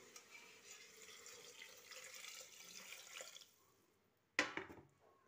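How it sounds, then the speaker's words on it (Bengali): Water is poured into a pot of chicken curry being cooked, a soft steady liquid pour for a few seconds, fairly faint and close, followed by a brief sharp clatter and splash. "এবার জল ঢেলে দেবো"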